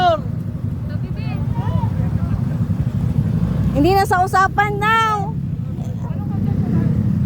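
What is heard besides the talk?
motorcycles riding through a river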